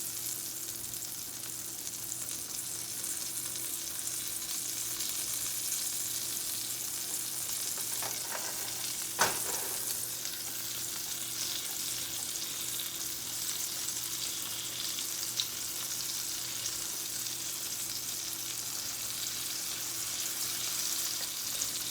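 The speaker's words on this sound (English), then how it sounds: "carefully placing our liver down in here, and hear it sizzle." Liver sizzles steadily in hot oil, a constant crackling hiss throughout with a single sharp pop midway.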